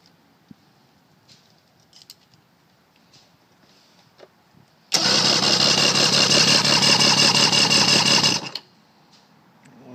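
An outboard motor, a 150 Mariner on a 1996 Champion boat, starts up and runs loud and steady for about three and a half seconds, then cuts off, with quiet outdoor background before and after.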